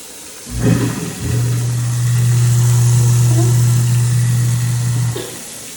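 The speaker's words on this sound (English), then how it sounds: "I'm also gonna run my garbage disposal" A kitchen sink garbage disposal in an apartment after a resident moves out whirs with a loud, steady motor hum for several seconds, starting with a brief surge and then stopping abruptly.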